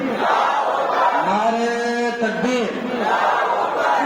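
Religious gathering commemorating Imam Hussain and the martyrs of Karbala: a large crowd roars back in unison in answer to the Nara-e-Takbir call, a loud sustained collective shout rising and falling over a few seconds.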